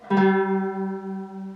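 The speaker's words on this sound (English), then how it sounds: "That's the sound of the strings not being in tune." A single plucked oud note rings out, two slightly mistuned strings producing a slow wavering beat as the tone decays, then another pluck begins.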